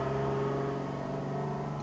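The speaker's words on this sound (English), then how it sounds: "You hear that truck that just went by?" Steady engine rumble with a low tonal hum, a truck going by outside, holding fairly even in loudness throughout without a clear approach or fade.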